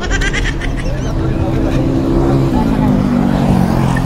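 A motorized tricycle passes close by on a street. Its loud, steady engine drone drops in pitch as it goes past, while people talk over the noise.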